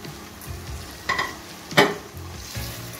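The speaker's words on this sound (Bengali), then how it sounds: "এখন বাপিয়ে রাখা মাছটা দিয়ে দিচ্ছি।" Boiled fish dropped into a pan of fried spices, giving a steady background sizzle with a few sharp bursts and scrapes as the pieces land and get stirred.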